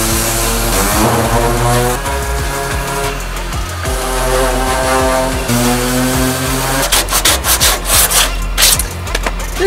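Power sander working coarse sandpaper over the body of a bus during paint prep, a steady buzzing drone with rhythmic pitch shifts, growing rougher and choppier near the end.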